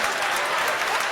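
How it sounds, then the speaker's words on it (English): Audience applause and clapping at a stand-up comedy show, a dense, steady wash of many hands filling the room without pause. "Y'all start clapping right now."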